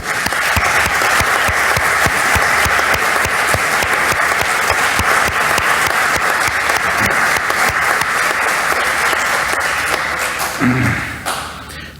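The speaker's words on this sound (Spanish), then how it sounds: "Yo quiero pedir un aplauso para todo el equipo," Sustained applause from a large audience at the closing plenary session of a congress, loud and dense throughout before fading out near the end.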